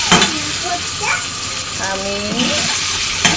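An egg frying lightly in a pan gives a soft, steady sizzle with a few clinks, heard under a voice talking.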